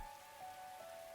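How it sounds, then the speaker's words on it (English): Rain pelting a rooftop in the game Day Line Last Defense Academy, a faint, even hiss of falling drops over a very short stretch with a thin steady tone beneath. "Raindrops were pelting the rooftop all around me, producing a relentless rhythmic beat"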